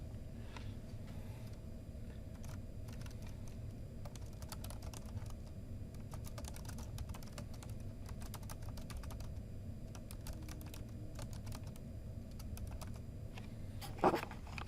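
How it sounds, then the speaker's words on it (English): Faint, steady tapping of fingers on a computer keyboard, clicks coming in quick irregular bursts over a low room hum, with one sharper knock near the end and no voices. "let's type in something specific here"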